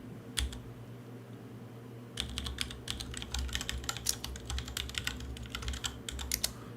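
Keys clatter on a computer keyboard at a desk, first a single tap, then a quick, irregular run of crisp keystrokes close to the microphone, with no talking.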